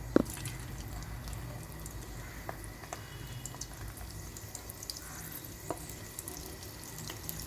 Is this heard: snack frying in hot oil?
yes